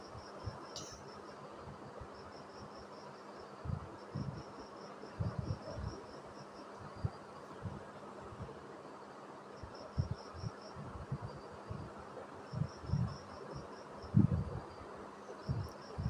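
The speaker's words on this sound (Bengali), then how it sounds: "সেলাই করে নিচ্ছি।" Sewing a folded half-inch hem on a small boy's shirt produces faint, intermittent bursts of a low motor hum and needle rattle, starting and stopping irregularly over a quiet room background with no speech.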